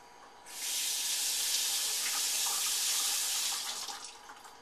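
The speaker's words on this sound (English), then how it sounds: "if you hold your hand under the faucet in the sink, you'll rinse that salt off of the black beans" Tap water runs from a sink faucet over black beans being rinsed by hand, a steady close hiss that starts abruptly, holds evenly for several seconds, then tapers off, with no talking.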